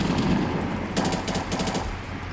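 Sustained automatic gunfire in the video game Call of Duty Modern Warfare Remastered, loud and close, with dense rapid bursts and a cluster of sharper shots in the middle, continuous over the whole stretch.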